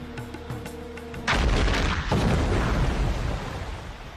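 A medieval cannon fires a stone ball: after a few faint sustained tones, a sudden loud blast bursts out and rolls on as a dense, rumbling roar.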